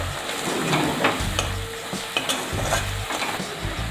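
Besan zunka mixture with salt and chopped coriander being stirred in a hot pan, a steady close sizzle with scraping spoon strokes throughout, no voices.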